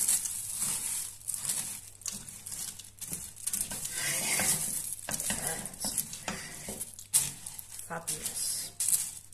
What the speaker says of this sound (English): So I'll stir this all in and let it cool down for a little bit